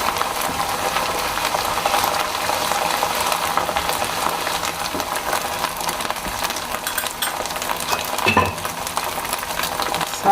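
Onions frying in a pan with cumin and garlic ginger paste, a steady close sizzle with faint stirring scrapes and an occasional clink, no talking over it.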